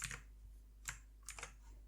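A few soft, distinct keystrokes on a computer keyboard while entering C# code, quiet and irregularly spaced in an otherwise calm room.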